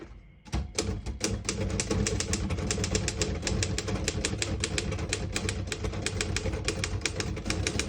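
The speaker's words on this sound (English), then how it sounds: "This is a very nice typing machine." Rapid, steady mechanical keystrokes of a 1953 Royal HHE vintage portable typewriter, close and continuous, each strike sharp and clacky with no voices.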